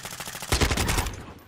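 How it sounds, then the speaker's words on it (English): Rapid automatic gunfire from an AK74u-style rifle in Modern Warfare 2 multiplayer, a dense burst of close, loud shots lasting about a second with no talk. "I unpeak and he just keeps firing."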